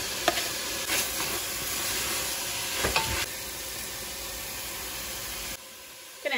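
A chopped onion sizzles with drained cooked meat in a pot, broadband frying hiss holding steady while a utensil stirs and scrapes several times, then softening and dropping away near the end.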